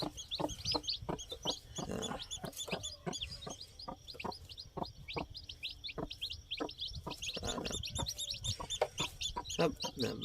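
Hens cluck repeatedly in short irregular bursts, with chirping birds and a steady background hum throughout.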